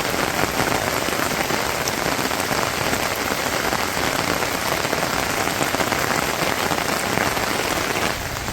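Steady rain pours onto a rooftop, a dense, even hiss of drops with no pauses, close and fairly loud throughout, with no talking over it.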